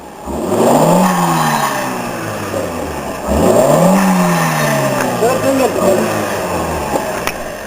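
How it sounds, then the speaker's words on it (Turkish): A modified car engine from Konya Modifiye revs hard twice, each rise in pitch falling away with a sharp release. Loud and close, with tire squeal and some chatter afterward. "Şu anda Konya Modifiye'nin ürettiği Blue Off sesini dinliyoruz."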